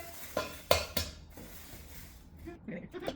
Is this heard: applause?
no